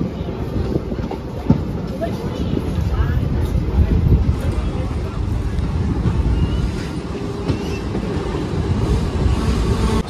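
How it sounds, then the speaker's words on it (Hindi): The Mathura–Barmer Superfast Express pulling out of a small Indian station, a loud steady rumble with rattling wagons and faint clickety-clack, heard from inside the coach with voices murmuring underneath. "सो भाई फाइनली हमारा डिपार्चर हो गया है बसवा रेलवे स्टेशन से।"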